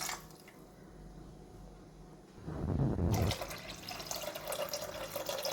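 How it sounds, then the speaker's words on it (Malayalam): Water pours into a pot of coconut-based tamarind fish curry, a short splashing gush after a quiet simmer, followed by a brighter bubbling and sizzling. "കുറച്ചും കൂടെ വെള്ളം ഒഴിച്ച്"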